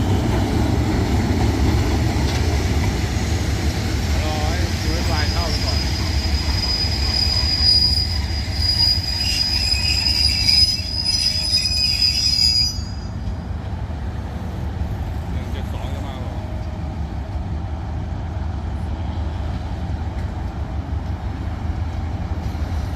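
A Thai diesel railcar set coupled to train 71 rolls past, with a loud, sustained high wheel squeal over a heavy low rumble that fades after about thirteen seconds into quieter rolling noise.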